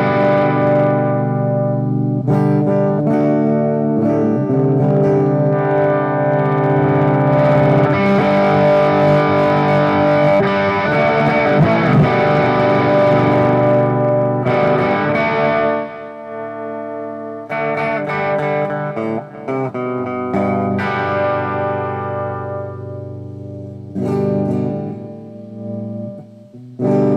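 A Maestro by Gibson electric guitar played through heavy distortion and effects, sustained chords ringing and echoing, with brief pauses between phrases.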